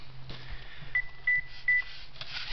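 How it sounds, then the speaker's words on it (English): A phone gives three short electronic beeps in quick succession over a low background hum, close and clear, with no talking. "that's my phone"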